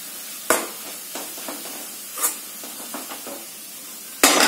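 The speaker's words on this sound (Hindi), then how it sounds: "और इसको अच्छे से मिक्स कर दूंगी।" Crumbled roti is stirred into ghee and sugar in a pan, giving soft scattered scrapes and occasional sharper knocks against the metal over a quiet hiss.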